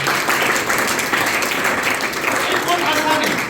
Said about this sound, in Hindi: ताली बजाओ इस बात।